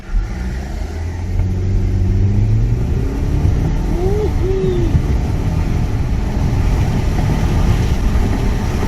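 A 2014 Audi A4 with a turbocharged engine and a faulty selector lever position sensor, accelerating hard from 0 to 60: a loud, continuous engine roar whose low drone climbs in pitch as speed builds.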